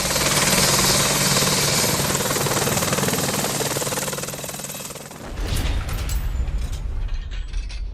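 An Apache military attack helicopter flies close and loud, with a steady heavy rotor roar for about five seconds before the drone drops and turns choppier and thinner as it moves off.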